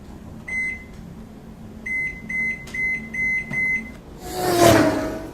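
Oven timer being set, a series of short electronic beeps, one alone and then a quick run of five, followed by a brief rushing whoosh, close and clear without talk.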